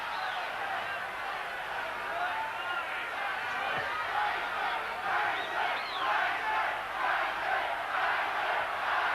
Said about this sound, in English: there's jeering coming in the last round